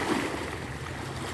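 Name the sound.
ocean waves growing bigger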